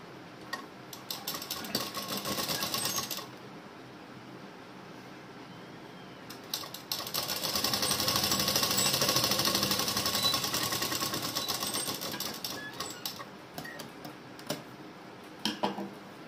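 Sewing machine stitching a blouse shoulder seam with a half-inch allowance: bursts of rapid, steady mechanical whirring and ticking, one short run and then a longer sustained one, close but fairly quiet.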